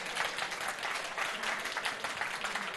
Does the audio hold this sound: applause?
yes